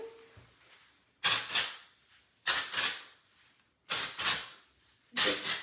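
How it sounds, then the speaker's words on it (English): Four loud, sharp spray bursts from an aerosol can, evenly spaced about a second apart, each a forceful hiss that tapers off. "spray, and it's like powerful spray"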